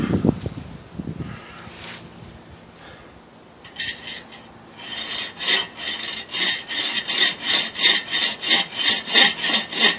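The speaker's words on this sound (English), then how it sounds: "This is a little bit of cutting." A SVEN folding saw cuts through a wood branch, starting with a few tentative strokes before settling into steady, rhythmic back-and-forth rasping strokes, close and loud, with no talking.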